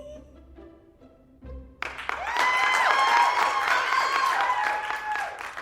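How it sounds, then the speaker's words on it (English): After a few quiet seconds with a faint voice, audience applause after a performance bursts in suddenly and stays loud and sustained, dense clapping from a full crowd filling the room. "That applause was a rush."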